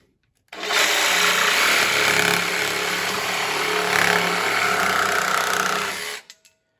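A jigsaw fitted with an EZARC blade cuts through wooden trim molding in one continuous loud, rasping run of about six seconds, starting and stopping abruptly.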